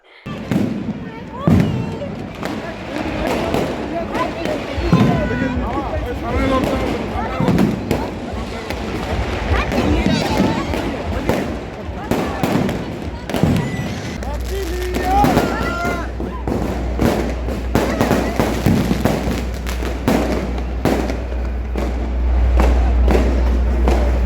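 Fireworks and firecrackers burst from every direction at New Year midnight in front of hotels, a dense, continuous barrage of loud bangs and thuds with deep booming low rumbles building in the second half, while voices carry underneath.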